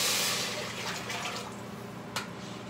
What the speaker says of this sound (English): I'm going to pour my water in my pot.